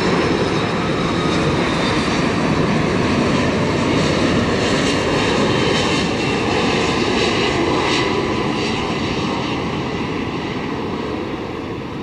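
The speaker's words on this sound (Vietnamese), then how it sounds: "chiếc máy bay đặc biệt là chiếc máy bay Airbus A330 có sơn màu của Liên minh hàng không SkyTeam" An Airbus A330 in SkyTeam livery comes in to land at Tan Son Nhat airport with a loud, sustained jet engine roar that holds steady and eases slightly toward the end, with no speech.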